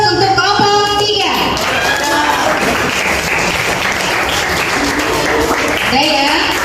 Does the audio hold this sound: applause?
yes